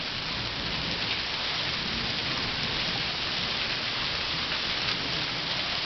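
Heavy hail pounds a house in a dense, steady roar of impacts. It is loud and continuous with no voices.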